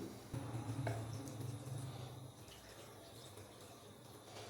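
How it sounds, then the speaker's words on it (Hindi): Water runs steadily from a tap into a cooking pot of chopped spinach and turmeric for a palak gosht curry, a soft gushing pour lasting about two seconds before fading to faint room noise. "2 गिलास भर के हम इसके अंदर डाल देंगे पानी।"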